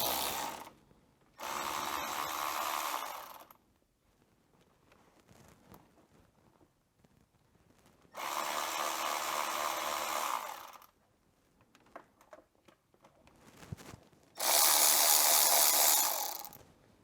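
A ratchet undoes the rocker cover bolts on a Renault Clio in three loud, close bursts of rapid clicking, separated by quieter pauses with faint handling noises.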